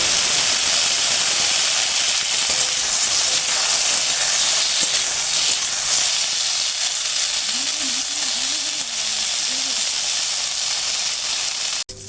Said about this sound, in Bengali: এবারে এই তেলে আলুগুলো আমি ভেজে নেব।